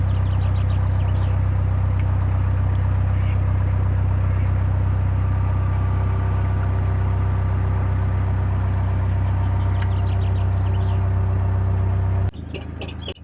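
A steady, deep engine of a 1935 narrowboat chugs continuously at close range on a canal, a low rhythmic thrum with faint birdsong above it, cutting off abruptly near the end.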